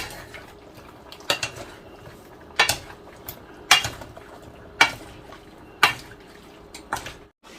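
Vegetables being stirred and tossed in a pan for pinakbet, with six sharp clanks of a utensil against the pan at a steady, unhurried pace over a low background sizzle, close and clear with no talking.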